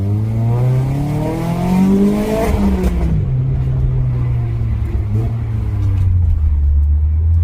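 A modified Renault Clio RS on the move, its engine and exhaust rising in a steady rev then easing off into a sustained drone, with close intake roar and a continuous low rumble throughout.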